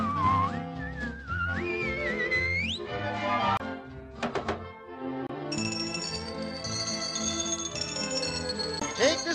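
Whistling from a Pinocchio song, a bright, sliding melody rising and falling over orchestral accompaniment, followed by sustained high whistled tones later in the passage.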